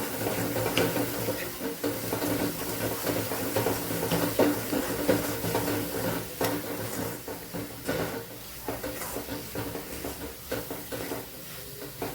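Flour and jaggery are stirred in a pan on a gas stove while making jowar sukhdi, a soft continuous scraping and shuffling with faint sizzling at low volume.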